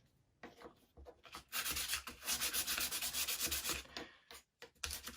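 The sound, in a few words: sanding UGears wooden model kit part with sandpaper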